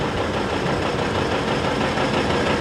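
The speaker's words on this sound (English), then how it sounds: "This was one of the biggest tractors that John Deere made that was two-cylinder." A large John Deere two-cylinder diesel tractor engine runs loud and close, a dense, continuous knocking rumble with no break.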